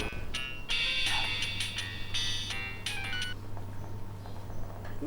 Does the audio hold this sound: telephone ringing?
yes